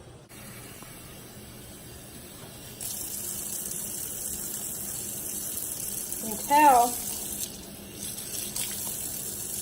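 Water runs from a tap into a container, a steady hiss that begins partway through and continues to the end, while a voice speaks briefly over it at close range.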